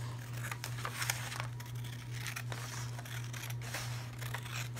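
Scissors snip through a paper template with short crinkly cuts over a steady low electrical hum, fairly quiet and close, with no talking.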